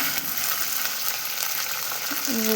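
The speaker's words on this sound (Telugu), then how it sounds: "కళ్యామాకు జీలకర్ర అయితే వేగే వరకు ఇట్లా వేయించుకుంటున్నానండి" Cumin seeds and curry leaves frying in hot oil in a pan, a steady close sizzle with faint stirring, no talking.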